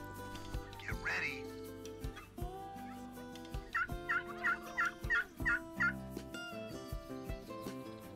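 Turkeys gobble in a hunting video game: a rapid rattling gobble breaks out in a loud burst over music and ambient game sounds, with softer calls around it.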